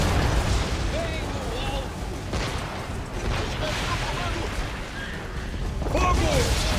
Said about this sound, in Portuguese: Fogo no costado!